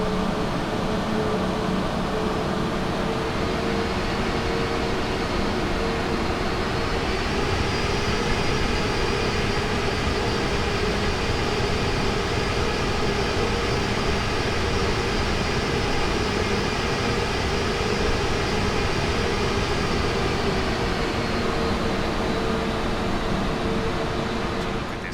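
Steady, continuous airliner engine drone with a faint rising whine from a taxiing aircraft in Microsoft Flight Simulator on an icy Dublin-to-Manchester flight, even and unbroken throughout with no talk.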